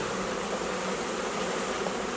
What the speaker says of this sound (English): I'm going to shake the rest of the bees